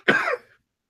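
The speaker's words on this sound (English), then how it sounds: "This cough is not from the chip." A single short, dry human cough, close and clear, bursting out and trailing off within half a second, followed by silence.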